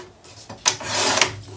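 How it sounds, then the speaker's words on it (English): A paper trimmer blade slicing a 3-inch sliver of patterned paper for a Graphic 45 Birdsong mini album. It makes a short, close rasping scrape of about a second with a small click at the start. "I'm going to cut a 3-inch sliver"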